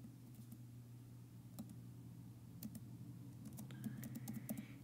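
Computer keyboard typing in scattered bursts of soft clicks over a steady low hum, close and fairly quiet, no voices.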